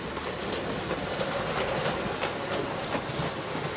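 A model locomotive running at slow speed gives a steady rumble with faint rhythmic clicking of wheels, continuous and fairly loud, with no voices.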